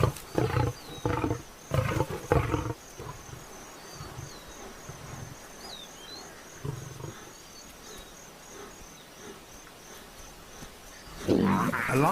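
A lioness roars and snarls in a fight with hyenas, with loud bursts of growling early on, a quieter stretch with faint insect buzz, then another loud roar at the end.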